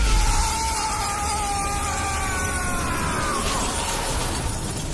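A glass roof shattering in the video game Modern Warfare 2, heard as a loud, dense, continuous crash with bright ringing glass tones over a rumbling low end, sustained for several seconds.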